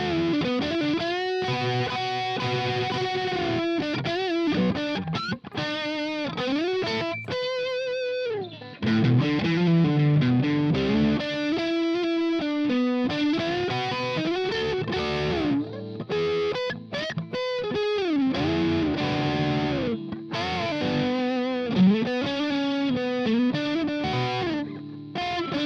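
Electric guitar played through the Flamma FX10 headphone amp on a distorted amp model with chorus-like effects, a steady run of driven chords and single-note lines with no pauses or talk.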